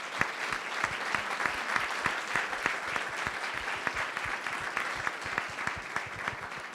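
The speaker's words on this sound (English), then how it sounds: "Another big applause for our panelists." Applause for panelists at a forum on tourism and cultural cooperation, a steady, fairly soft patter of many hands with crisp individual claps popping through, continuing evenly for several seconds.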